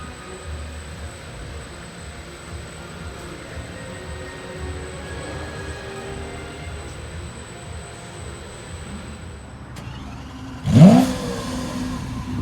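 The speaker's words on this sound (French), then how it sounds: "un Aventador qui est passé là-bas aussi" A Lamborghini Aventador supercar passes near a supercar hangar, a faint distant engine rumble lingering until a short, sharp rev bursts out near the end.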